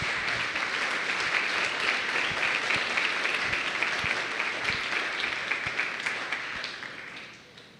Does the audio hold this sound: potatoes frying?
no